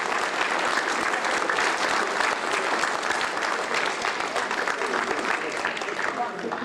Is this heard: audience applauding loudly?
yes